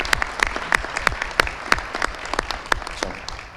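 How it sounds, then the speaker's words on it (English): Sparse applause at a town inauguration ceremony, a small group clapping with distinct individual claps close by, irregular and moderately loud, slowly thinning out. "So if we could get a round of applause for them"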